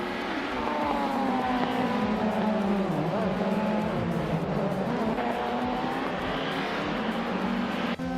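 A 1999 Nissan Primera P11 launching from a race start in a racing game on the New Hampshire Motor Speedway road course, engine droning loud and steady alongside other cars, with rising and falling pitch.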